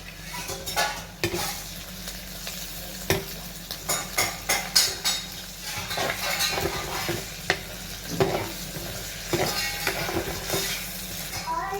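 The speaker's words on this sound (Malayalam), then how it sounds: "നമ്മുടെ ഉള്ളി ഇഞ്ചിയും മൂത്തിട്ടുണ്ട്" Onion and ginger with a pinch of asafoetida fry in a pan, a steady sizzle beneath repeated scraping and tapping of a stirring utensil against the metal, with no voices.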